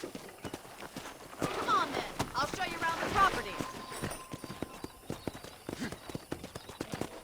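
Rhythmic clip-clop of horse hooves trotting in the video game Red Dead Redemption, steady and fairly close, while a person talks over it.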